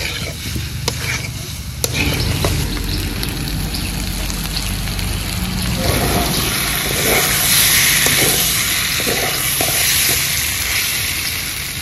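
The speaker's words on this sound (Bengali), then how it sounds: "এবার ভেজে রাখা আলুগুলো দিয়ে দেব। আরো 2 থেকে 3 মিনিট ভালো করে কষে নেব।" Small fried potatoes sizzle and hiss in hot oil in a pan while being stirred for a niramish dum. A loud, steady frying crackle runs throughout, broken by occasional scrapes and knocks of a spoon.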